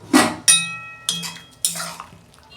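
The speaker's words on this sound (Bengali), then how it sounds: "ঢাকনাটা খুলছি" A metal lid lifted off a pan of cabbage simmering with turmeric and salt, giving four sharp clinks and clanks spaced about half a second apart, close and moderately loud, with faint ringing after each.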